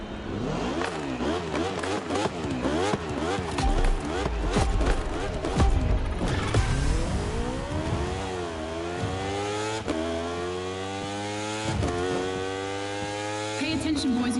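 Racing motorbike engine from The Crew Motorfest on PS5 revs hard, its pitch climbing and dropping through rapid gear changes, loud and close from start to finish.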